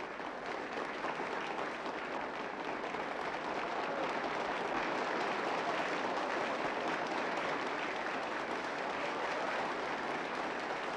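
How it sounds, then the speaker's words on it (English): Theater audience in The Elephant Man applauding steadily, a dense, sustained wash of many hands clapping close and loud throughout, with no voices. "So the audience starts applauding."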